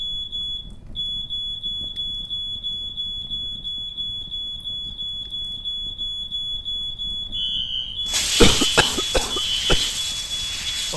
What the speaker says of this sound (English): Okay, I just set off the fire alarm.